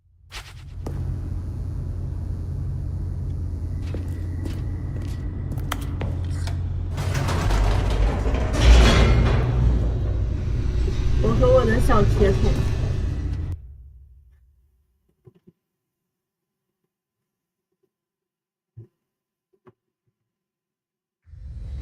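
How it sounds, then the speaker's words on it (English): An elevator descends in The Stanley Parable video game, a steady low mechanical rumble with creaks and ratcheting clanks that runs for about thirteen seconds and then cuts off, leaving near silence with a few faint ticks. "The elevator raced downward, plummeting towards an unknown fate."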